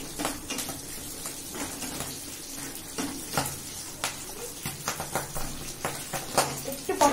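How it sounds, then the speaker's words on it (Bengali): Rice grains frying in hot oil in a pan crackle and pop irregularly, sharp snaps over a steady sizzle, close by, with occasional scraping of a utensil against the pan. "টপ টপ টপ টপ করে একটু ফাটবে কালি পটকার মতো"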